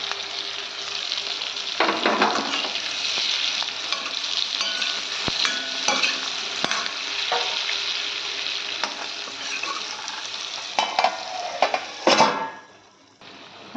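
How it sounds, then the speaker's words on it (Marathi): Tomato pieces and capsicum sautéing in a pan for mushroom chilli paneer, a loud, steady sizzle broken by the scrape and clink of a spoon stirring. Toward the end a few sharper clatters come before the frying fades to quiet. "आता टमॅटोच्या फोडी टाकते, काही परतून घेऊ थोड्या आणि त्याच्याबरोबरच कॅप्सिकम टाकून झाकण टाकून ठेवून मी ते शिजवून घेते."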